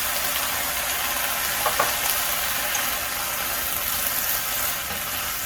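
Pork and garlic scapes stir-fried in a hot pan give a steady, loud, close sizzle, with a few faint scrapes of stirring and no talking.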